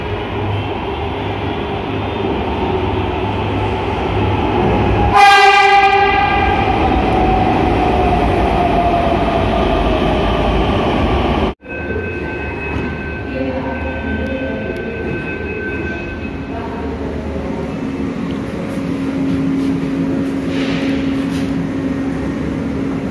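Pune Metro train riding between Vanaz and Pune Station, a steady interior rumble with a rising whine as it accelerates, a sharp cut, then quieter running with tonal hum and faint chimes; no talking.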